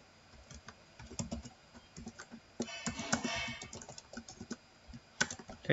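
Code is typed on a computer keyboard in quick, irregular bursts of close, soft key clicks, with short pauses between runs.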